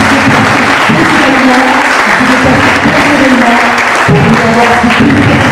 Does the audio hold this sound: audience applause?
yes